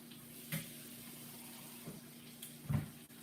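Water poured from a tap-like stream into a hot skillet after browning cube steak, a steady running splash with a few louder bursts and sizzles near the end, close and alone.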